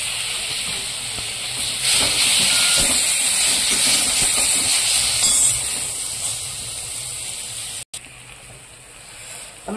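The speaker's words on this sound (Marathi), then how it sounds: "टोमॅटो चांगलं परतून द्यायचं।" Tomato paste sautéing in a pan gives a continuous broad hissing sizzle that swells in the middle and eases toward the end, with a brief cut and a faint clink at the end; no talking.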